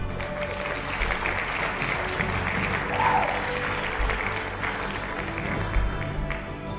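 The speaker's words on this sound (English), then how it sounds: "Who is clapping to this?" Continuous applause from a crowd at a press conference during the RoTV Expo 2025, steady and moderately loud throughout, with a faint murmur of voices underneath.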